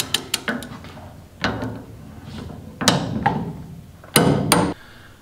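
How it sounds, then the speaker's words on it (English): Wrench work on classic Ford Mustang front disc brake bracket bolts: several sharp metallic clicks and clanks in short bursts, close and fairly loud, with quiet pauses between. "we're going to torque them down now to 40 foot-pounds"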